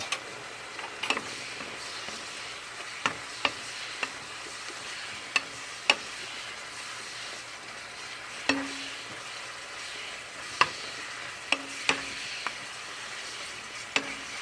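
Thick, meaty pheasant-back mushrooms sauté in a hot pan, a steady close sizzle broken by irregular sharp clicks and taps of a utensil against the pan, with no talking.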